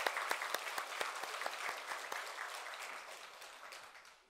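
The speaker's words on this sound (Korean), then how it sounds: "다시 한번 하나님 앞에 영광의 박수를 돌리겠습니다." A Korean church congregation applauds during a Sunday service, steady dense clapping that starts strong and gradually thins and fades away over a few seconds.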